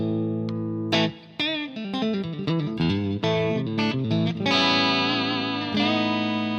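Distorted electric guitar through a Fractal MF Rectifier amp preset with cabinet and reverb, playing a loud sequence of picked notes and chords before settling into a sustained ringing chord, alone with no talk.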